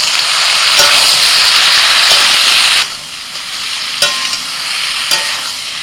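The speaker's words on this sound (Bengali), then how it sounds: "মশলার সাথে সবজিগুলোকে কিছুক্ষণ নাড়াচাড়া করে" Mixed vegetables fried with salt, turmeric, Kashmiri chilli powder and ginger-green chilli paste hiss loudly, then settle to a softer sizzle with a few clattering stirs of the spoon.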